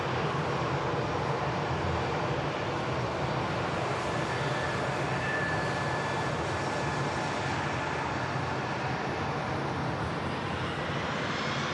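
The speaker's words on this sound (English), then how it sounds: "Eurowings as well, just nipping out before the Logan Air. This aircraft heading out to Dusseldorf" A Eurowings airliner departs Manchester Airport for Dusseldorf, its jet engines a loud, sustained broadband roar that holds steady for the whole stretch, heard from a distance with no voices over it.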